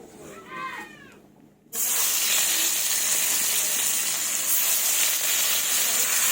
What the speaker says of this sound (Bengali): এবার মাছগুলো ভেজে নেব, ছেড়ে দেবো মাছগুলো।